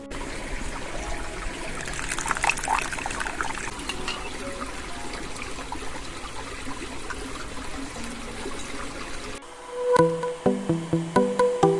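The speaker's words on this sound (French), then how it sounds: "est-ce que vous entendez la rivière?" A mountain river runs steadily through the Pyrenees on a quiet evening, a continuous broadband rush and trickle of water. It shifts near the end to sharper, rhythmic splashing and dribbling close by.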